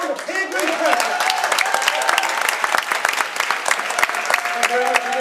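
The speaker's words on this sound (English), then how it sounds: "everyone will give them a huge round of peer group applause" An audience claps for volunteers walking up onto a stage at a mentalism show, with brisk, lively applause that is fairly close and continuous, while voices talk over the clapping.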